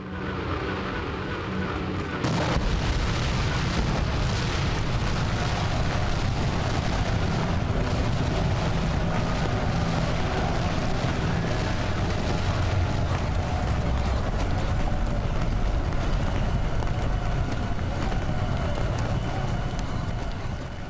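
Austrian gun batteries firing in a continuous, dense wartime roar, a loud rumbling wall of blasts and crackle that stays thick from start to finish without letting up.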